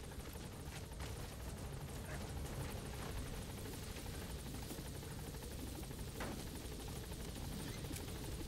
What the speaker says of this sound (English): The chopper will be able to get in close now.